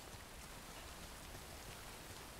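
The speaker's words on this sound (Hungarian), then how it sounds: "Gyönyörűen esik az eső." Rain falls steadily in Death Stranding, a dense, even hiss of drops with no variation, faint and continuous, no voices.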